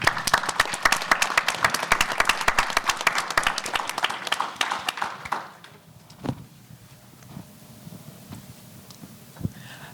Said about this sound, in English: I just invite everyone to please give this group a round of applause.